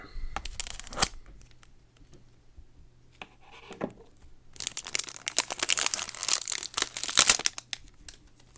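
Plastic packaging on a Zelda: Tears of the Kingdom collector's edition is cut and pulled away, with scattered crinkles first and then a dense burst of close crackling, tearing and crumpling.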